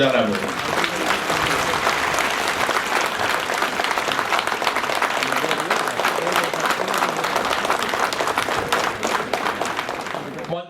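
A seated crowd rises to give a standing ovation at a district inauguration and foundation-stone ceremony in Unakoti, producing dense, sustained clapping for about ten seconds, with voices mixed in, before it thins out.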